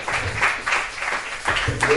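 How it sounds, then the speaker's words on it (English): Applause and cheering from a live crowd at a poetry reading in a club, a dense broadband patter with some whoops and voices mixed in, steady and fairly loud throughout. "Let me get a round of applause for Yasmin"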